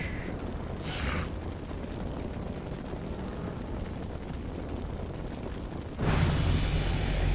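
Ice barrage spell cast in a video game on a private server: a continuous low rumbling roar lasts several seconds, then swells into a louder, harsher burst near the end, with no talking.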